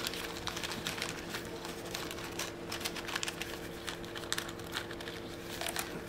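Small plastic bag packed with many scale model parts for a Berliet VUDB truck kit, handled carefully: steady crinkling and rustling with sharp little crackles throughout, close and fairly quiet, no talking.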